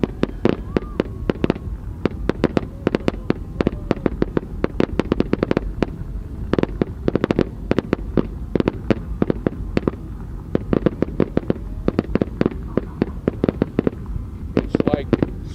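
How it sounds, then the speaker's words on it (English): Fireworks burst over the Burning Man 2023 man burn in a rapid, dense barrage of loud cracks and bangs, with crowd voices and talk underneath. "I want to see what all their fireworks are."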